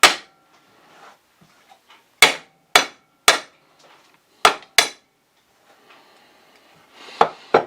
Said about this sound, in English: Same thing with the ginger like we did with the garlic. Give it a smash.